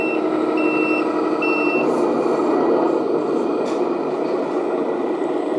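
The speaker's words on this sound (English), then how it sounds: "we've got sounds of the gears when we drive as well" A Unitru 10x10 Mercedes RC heavy-haul truck drives with a constant mechanical whir of gears and motor droning throughout, with a few short high beeps near the start and a couple of brief clicks.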